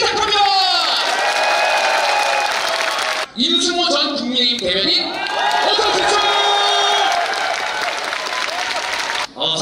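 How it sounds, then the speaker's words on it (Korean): Crowd at a political talk concert in Daegu applauding and cheering loudly, sustained clapping mixed with whoops and shouts, with a brief lull midway before the noise swells again; a voice speaks over part of it. "박수로 시작합니다!"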